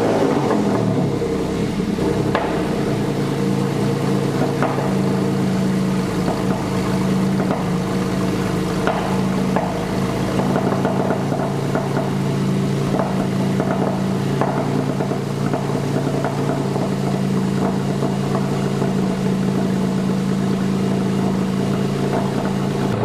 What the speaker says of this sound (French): Déjà le démarrage à froid là, il est mélodieux.